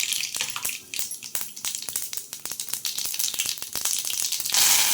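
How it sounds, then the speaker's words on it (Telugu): Mustard seeds dropped into hot cooking oil for a Telugu curry, crackling in dense sharp pops and sputters over a steady sizzle, close and fairly loud, with no talking. "చాలదు నూనె అయితే కాగింది. ముందు ఆవాలు వేసేద్దాం."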